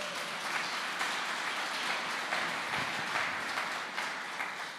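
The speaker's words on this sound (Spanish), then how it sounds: "Dale un aplauso al Señor." A church congregation at a Spanish-language service applauds, a steady wash of many hands clapping at moderate distance, continuous for about five seconds with no voices over it.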